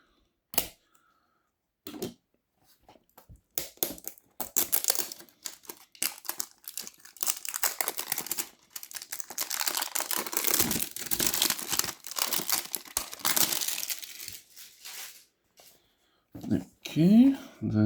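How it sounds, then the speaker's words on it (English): Cellophane wrapping being peeled and crumpled off an MB Creations diecast model box, with sparse crinkles building into a dense, close rustle of plastic film, then a few final crackles. "Forgot to take off the cellophane"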